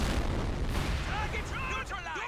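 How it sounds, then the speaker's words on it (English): Explosions and gunfire in the Company of Heroes 2 strategy game: a dense, continuous rumbling barrage with booms layered over sustained low roar, loud and close, with faint whistling tones rising near the end. "that took out the MG in the house with that incendiary grenade, and it's about to go down the mortar pit"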